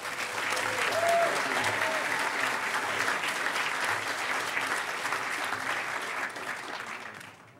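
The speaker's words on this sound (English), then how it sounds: "So come on, huge round of applause for Rhodey." Sustained audience applause at the Hackers On Planet Earth 2012 closing ceremonies, honoring a security staffer; steady dense clapping fills the room for about seven seconds before beginning to taper off.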